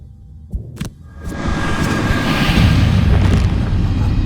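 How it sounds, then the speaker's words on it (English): A chromatic explosion spell effect in the Gloomhaven video game: two sharp clicks, then a deep booming rumble that swells and holds loudly to the end. "Because chromatic explosion should do just nicely"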